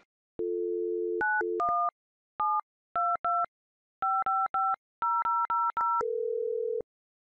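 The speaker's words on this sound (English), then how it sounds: "You can dial toll-free numbers. And long-distance numbers." Telephone touch-tone dialing: a steady dial tone, then a quick irregular sequence of short dual-pitch key beeps, ending in another sustained tone, clean and alone.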